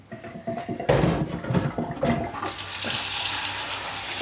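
Water from a filtered water fountain tipped into a kitchen sink, with a few clunks of handling before a steady, close splashing pour fills the rest.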